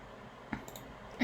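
A computer mouse gives a few soft, close clicks in a quiet room, brief isolated taps with faint background hiss.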